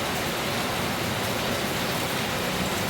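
Rain falls steadily in a forest during mushroom foraging, a dense, continuous hiss of drops on leaves and ground, loud and unbroken throughout.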